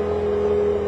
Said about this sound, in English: The engine is fired up.